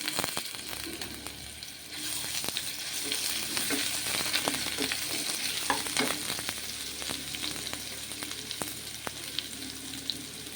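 Ground ginger-garlic paste fries in a pan for a rajma masala curry, giving a steady, close sizzle dotted with sharp clicks of a spoon stirring.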